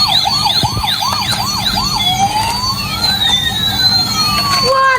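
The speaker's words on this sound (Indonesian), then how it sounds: "Wah, ada mobil ambulan." A battery-powered toy ambulance gives a warbling wail-type siren, repeated rising and falling tones that then turn into long slow sweeps, loud and close in a room.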